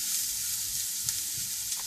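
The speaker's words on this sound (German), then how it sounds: "Jetzt kommen die geriebenen Möhren und Knoblauch dazu. Und wird auch ein bisschen angebraten." Grated carrots and garlic fry with onions in a pan, giving a continuous close sizzle with faint soft stirring taps, no talking.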